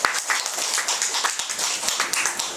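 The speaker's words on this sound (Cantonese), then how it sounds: "咁我哋再俾多次掌聲佢哋" Audience applause at a financial planning and fraud-prevention talk hosted for a district police community relations group, a modest crowd clapping in scattered, uneven bursts, somewhat distant and roomy.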